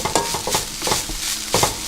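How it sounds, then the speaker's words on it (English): Seasoning and sugar stirred together for chicken jerky, a few quick scraping and clinking strokes of a utensil in a bowl or pan, close and brief. "I'm going to mix everything up first."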